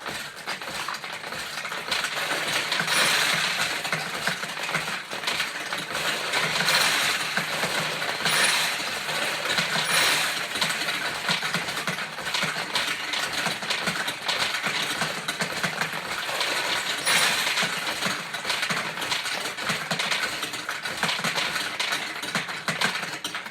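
A 1976 Okumurayuki Monaco Victory vintage pachinko machine plays continuously, a dense steady clatter of balls rattling through pins and mechanisms with metallic ticks throughout, loud and close with no talking.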